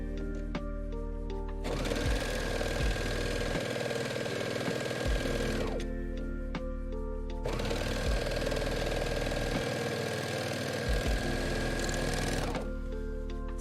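A sewing machine stitching a large microfiber cleaning cloth runs in two steady bursts of rapid mechanical whirring, each lasting about four seconds with a short pause between, close and clear with no talk.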